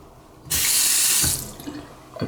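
Bathroom sink faucet in a hotel handicapped-accessible bathroom turned on, a loud steady rush of running water lasting under a second before stopping, followed by faint clinks and handling noises.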